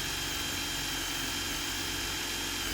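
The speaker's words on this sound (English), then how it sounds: "This is a 10mm wood drill with 20mm flame pine." A Bauker 18V cordless combi drill bores a 10mm wood bit through pine, a steady high-pitched motor whine with a grinding buzz, held constant and fairly quiet throughout, no speech.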